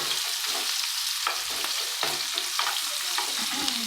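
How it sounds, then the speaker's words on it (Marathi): Onion dropped into hot oil sizzles loudly and continuously up close, with a few sharp scraping stirs of a spoon against the pan and no voices. "झाले बघा तेल गरम सगळ्यात आधी कांदा टाकू"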